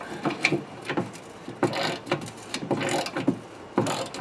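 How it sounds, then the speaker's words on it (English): Bolt being worked loose on an MTD Yard Machine lawn mower deck, a series of close metallic ratcheting clicks and clanks in uneven bursts, with no talking. "Get this last bolt out."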